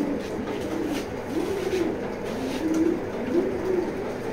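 A racing pigeon, a pied hen, coos softly in a loft, with repeated low throaty calls in short phrases over a steady background hiss.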